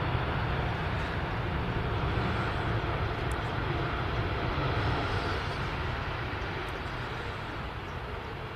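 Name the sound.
Qatar Airways Airbus A350-1000 touching down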